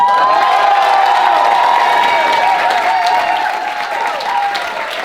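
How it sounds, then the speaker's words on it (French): A cabaret audience applauds the Biquette Club with brisk clapping mixed with cheers, whoops and high shouts, loud at first and easing slightly as it continues. "déjà, on applaudit le Biquette Club"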